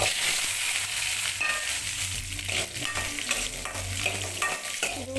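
Shallots and green chilli sauté in a pan over low heat, giving a steady close sizzle with stirring scrapes throughout, no voices.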